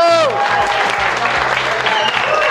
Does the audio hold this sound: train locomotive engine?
no